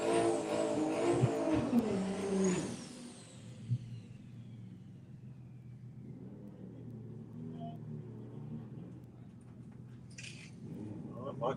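A drag racing car tears off on a pass, loud and close with a rising whine for about three seconds before fading away, leaving distant engine rumble and faint crowd ambience.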